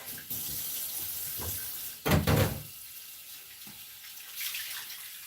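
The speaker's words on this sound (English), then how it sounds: "Some water in my bowl here." Water runs from a kitchen tap into a bowl, a steady hiss and splash throughout, broken by a brief louder clatter of the bowl near the start, with a gurgling rise toward the end.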